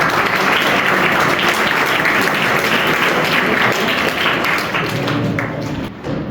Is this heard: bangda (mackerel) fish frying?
no